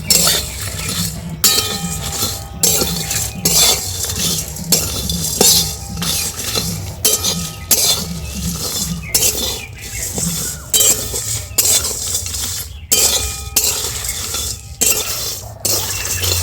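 Gobindobhog rice and spices dry roasting in a pan, stirred steadily with a metal spoon; repeated clinks and scrapes against the pan come in a regular rhythm, close and fairly loud, with no talking.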